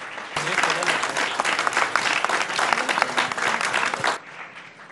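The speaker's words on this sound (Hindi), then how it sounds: "जोरदार तालियों के साथ स्वागत" Loud, dense applause from a studio audience welcoming Madhya Pradesh Chief Minister Dr. Mohan Yadav, a sustained wash of many hands clapping for about four seconds before cutting off abruptly, with a voice speaking briefly at the start and after.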